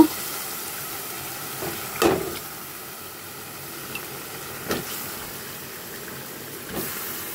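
Taro roots are added to a spice mix frying in a pan, giving a continuous soft sizzle with a few louder clatters and stirring knocks spaced through it, no talking.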